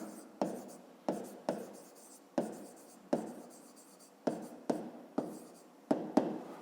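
Pen strokes on paper come one after another in quick, short bursts, each scratch beginning sharply and fading, heard close up with no talking while triangle vertices are written out by hand.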